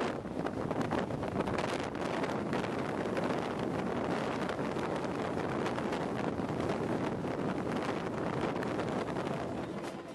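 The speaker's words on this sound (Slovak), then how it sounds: "nás zastihol aj sneh a trošku silný vietor" Strong wind sweeping through the Altai Mountains of western Mongolia during snowfall, a steady, loud, broadband roar buffeting the microphone for the whole stretch, with no talking.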